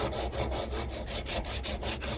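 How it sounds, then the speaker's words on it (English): Rhythmic rasping strokes of filing and sanding on a resin-stabilized wood knife handle for an Opinel No. 10, steady back-and-forth scraping repeated roughly every fifth of a second, close and moderately loud with no voices. "Back to filing and sanding."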